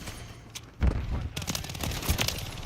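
Gunfire in a Call of Duty Modern Warfare III match: a burst of booming shots with rolling echoes and scattered fire over several seconds, moderately loud, with no voices over it.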